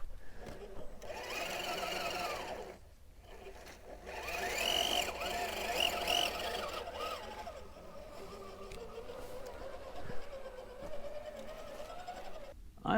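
An RC4WD TF2 Marlin RC crawler, fitted with an Axial 35-turn motor in place of its 45-turn, whines steadily on a trail, its electric motor tone rising and falling over about thirteen seconds, with occasional scrapes and a voice underneath.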